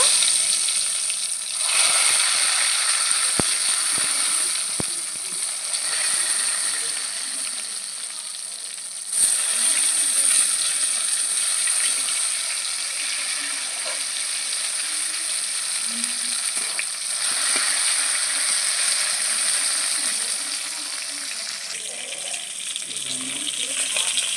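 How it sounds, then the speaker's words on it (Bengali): Coated brinjal slices for a sesame eggplant (til begun) dish fry in hot oil, giving a long, even hiss close by, broken by a couple of sharp clicks and a brief surge partway through. "বেগুনগুলো এখন আমি ভেজে নেব"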